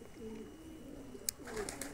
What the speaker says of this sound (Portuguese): Como é que tá aí os pombos se alimentando de milho aí, ó.